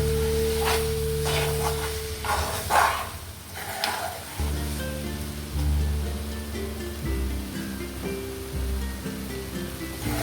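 Chicken frying in oil in a pan, stirred for a home-style chicken fry, with a steady sizzle and scraping stirs running throughout at close range, loud and continuous.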